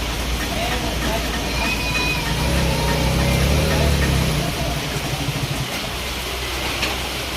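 Vehicles pass along a road in heavy rain, a continuous roar of rainfall and tyre spray with low engine rumble swelling mid-way, while voices talk over it.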